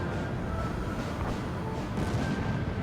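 Enemy fire in Ace Combat 7 during an aerial battle: a steady, dense wash of distant cannon and flak rumble. It holds at the same level throughout, with a slightly heavier swell near the end.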